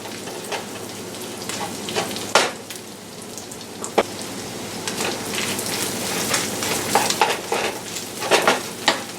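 Eggs frying in butter with rosemary and thyme, a continuous crackling sizzle with sharp pops and spits scattered throughout, close and fairly loud.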